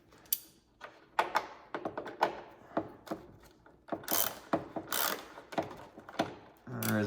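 A Torx T30 screw being worked loose from a Can-Am fender during a fender flare install, heard as a string of sharp mechanical clicks and ratchet-like ticks at close range, with short bursts and some handling thumps.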